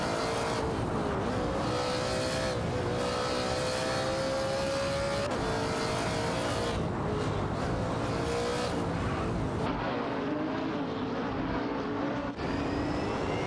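Race cars, including Audi R8 LMS Ultra GT cars, roar continuously through a racing video game, engines droning and shifting pitch as they accelerate and pass, loud and dense with no pauses.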